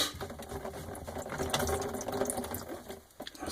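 Water backs up out of a clogged bathroom sink trap and splashes into a plastic pan below, a steady close-up gush of pouring and trickling that dips briefly near the end.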